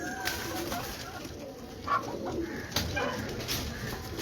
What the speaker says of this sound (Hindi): ये भी करिश्मा कबूतर है।